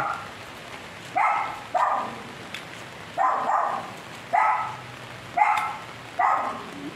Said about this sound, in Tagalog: Biglang bumuhos